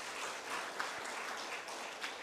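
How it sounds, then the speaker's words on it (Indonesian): An audience applauds university students at a regional city branding logo launch in Penajam Paser Utara, with a steady wash of clapping from a crowd, moderately distant and continuous for a couple of seconds. "Tepuk tangan dulu buat mahasiswa kita ini."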